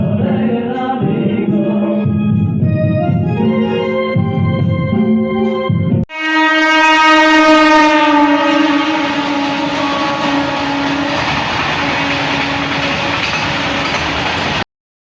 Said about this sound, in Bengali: এখন আমি আছি আমাদের পুরুলিয়া স্টেশনে